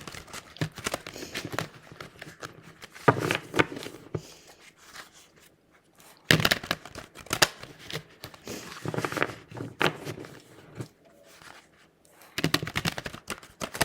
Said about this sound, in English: The Unfolding Path deck. Ruffle, shuffle.